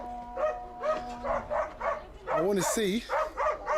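A dog lets out a series of short barks and yips, close and fairly loud, with a few whining, whimpering calls mixed in while people talk over and around it.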